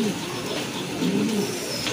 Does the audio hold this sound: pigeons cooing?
yes